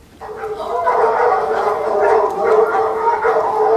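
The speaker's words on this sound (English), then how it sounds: "Gun dogs. They must be starting the shoot again." Gun dogs at a shoot barking and howling together in a steady, loud chorus that builds slightly over a few seconds, with no talk over it.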